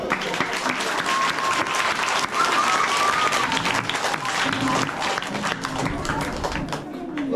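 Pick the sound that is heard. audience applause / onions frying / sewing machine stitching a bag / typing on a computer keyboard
audience applause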